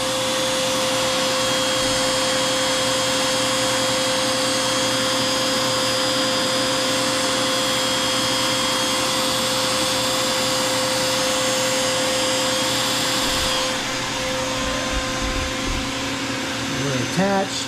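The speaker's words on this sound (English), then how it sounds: "We're attached, spindles on, and we're carving." A CNC router spindle whines steadily while carving a vehicle laptop stand, a loud constant high-pitched tone with dense broadband noise that eases slightly near the end.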